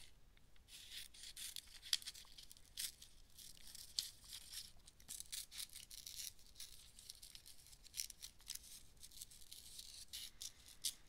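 Paper being cut with scissors while an intuitive art collage is made, a cut-out figure trimmed from its background; close, soft rhythmic snips and crisp rustling swishes, quiet and steady without talk.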